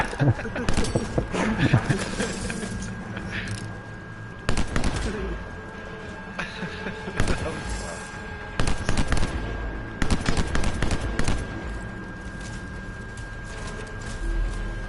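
Video game gunfire on PS4 rattles in repeated bursts of rapid shots, loud and close, with voices talking over and between the volleys.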